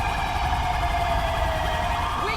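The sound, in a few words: police car siren in the video game GTA 5 (LSPDFR)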